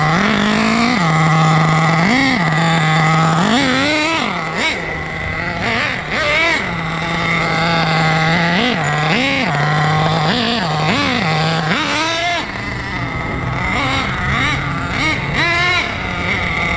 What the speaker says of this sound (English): All that bashing, it still returns down to a normal low idle.